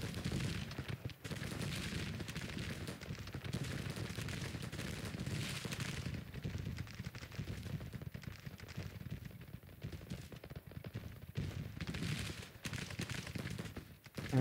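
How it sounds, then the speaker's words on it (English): Cannon fire in a Civil War battle in the game Grand Tactician: The Civil War 1861-1865. A dense, continuous barrage of booms and crackling volleys rolls without pause, and no voices are heard. "the cannons are taking out our biggest stretch off our battle line"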